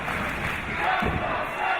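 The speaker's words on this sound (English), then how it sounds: "This crowd chanting, "Let's go Slater," they want to see him make the tag." A British wrestling crowd at an NGW show chanting "Let's go Slater" in a loud, steady roar of many voices, with rhythmic swells filling the hall throughout.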